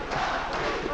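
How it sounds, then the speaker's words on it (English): A French boxing crowd at a WBC middleweight title bout between Keith Holmes and Hacine Cherifi keeps up a loud, dense, continuous roar and chant for Hacine through the whole second, with no gaps. "The crowd with the chant of Hacine"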